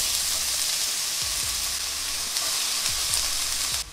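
Onions sizzling in a little oil in a pan for chilli con carne, a loud, dense, continuous fry hiss close by with a few soft scrapes of stirring, and no talking.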